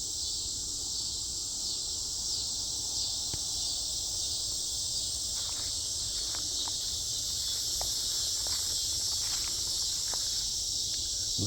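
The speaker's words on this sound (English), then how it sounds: "Listen to those cicadas" Cicadas drone in a dense, steady high buzz through a summer woodland, loud and continuous, with faint rustling and a few soft footsteps beneath.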